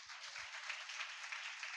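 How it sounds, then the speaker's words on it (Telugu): A church congregation claps hands during a Sunday service, a dense, steady round of applause from many people that fills the whole moment. "చప్పట్లు కొట్టండి."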